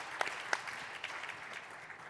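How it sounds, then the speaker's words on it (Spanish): Faint, scattered clapping from a small audience at a venture capital panel at a business summit, a few sharper claps standing out over a soft background. "pedirles un fuerte aplauso para estos panelistas"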